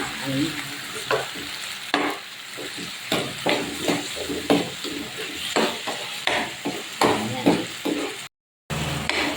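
Onions and sardines fry in a pan with a constant sizzle and repeated sharp scraping strokes from stirring, loud and close, with a brief dropout near the end.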